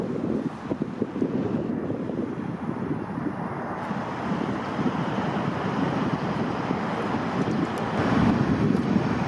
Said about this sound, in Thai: อยู่ตรงลานนี้ก็ลมแรงหน่อยหนึ่ง